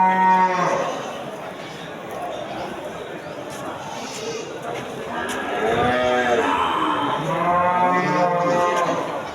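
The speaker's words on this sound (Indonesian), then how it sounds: "Juga ada beberapa ekor sapi Aceh." Several Aceh cattle moo in a livestock pen, with long drawn-out lowing calls overlapping one another and rising and falling, fairly loud and close, while people chatter faintly in the background.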